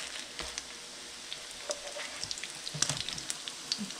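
Salmon patties fry in a pan with a light steady sizzle and scattered crackles and pops, close and fairly quiet, with no voices.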